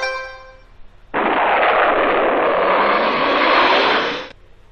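A whooshing launch effect of jet boots blasting off into the air in a Dora the Explorer PC game: a sudden loud roaring rush of noise that holds steady for about three seconds and then cuts off, with no talking.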